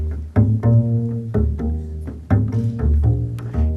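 A bossa nova bass line played on bass, with plucked notes falling in a lilting, syncopated pattern, close and steady over a few bars with accompaniment, and no voices.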